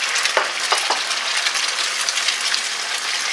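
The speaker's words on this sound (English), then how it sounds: "I fix my scrambled eggs straight into the grease of the bacon" Scrambled eggs frying in hot bacon grease give a steady, loud, close sizzle and crackle, with a few sharper pops and scrapes as they are stirred in the pan.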